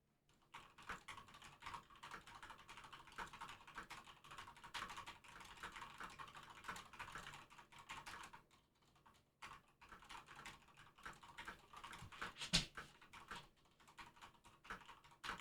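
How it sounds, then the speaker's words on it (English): Steady computer-keyboard typing with dense, rapid key clatter running almost continuously, briefly pausing in the middle, with one sharper click near the end; no talk over it. "Typing noises."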